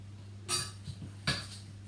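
A large spoon clinks twice against a tray or bowl while scooping apple and raisin muffin batter into paper cases, two bright metallic taps with soft scraping between, over a low steady hum.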